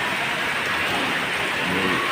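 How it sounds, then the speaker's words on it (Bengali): Heavy rain pours down on Green Road in a dense, steady hiss, loud and close, with no voices. "এত বৃষ্টি"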